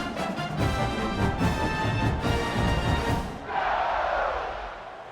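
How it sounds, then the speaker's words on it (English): Roaring stadium crowd in a college football video game, Delaware against Texas A&M, a dense sustained wash of cheering that dips briefly and then swells again as a steady bed of noise, with no speech. "this crowd now ready to get behind them"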